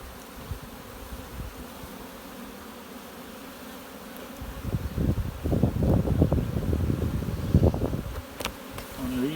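Honey bees buzz around small Towers of Queens hives topped with honey supers, a steady outdoor drone that swells louder and busier in the second half, with occasional bees passing close to the microphone.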